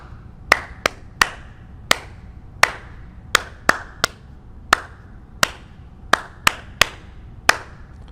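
Sharp percussive claps or slaps on a deck tapping out a short rhythm of long and quick beats, repeated three times, crisp and close with brief gaps between hits.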